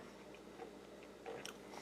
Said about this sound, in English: Oats are nice and crunchy.